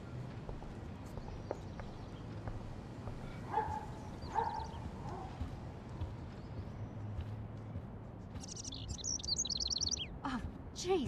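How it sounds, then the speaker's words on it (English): A bird trapped indoors in the Life is Strange game chirps in short high bursts, loudest near the end, over a low ambient background. "can you help me get this bird out of here?"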